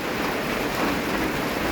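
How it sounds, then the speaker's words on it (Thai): Steady rain falling on surfaces in a rural Lao setting during the leaf-fall season, a dense, even hiss of drops continuing unbroken throughout at moderate loudness. "ฝนตกเบิดคืนป่าน"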